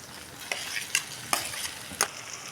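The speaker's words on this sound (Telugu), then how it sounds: "ఇప్పుడు మనం ఉడకబెట్టుకున్న బంగాళదుంపలన్నీ వేసేసుకుందాం" Sliced boiled potatoes are stirred in a frying pan, with a quiet sizzle under several sharp scraping spatula strokes spaced irregularly.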